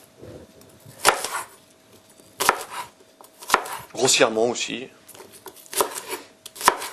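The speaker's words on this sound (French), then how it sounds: "je vais couper les oignons tout de suite." Sharp knife chops through onions on a board in an irregular series of crisp, close knocks, with a person speaking briefly between them.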